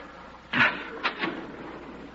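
A door opens as a radio drama sound effect, with a firm clunk followed by two lighter metallic clicks, close and fairly quiet over a low background hiss.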